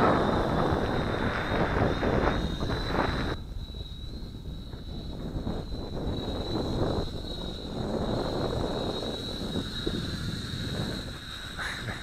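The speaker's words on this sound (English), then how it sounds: "That's the wind doing that." Wind buffets the microphone of a Syma X5C quadcopter drone in flight, giving a steady, loud rushing roar with a thin, constant high whine running through it.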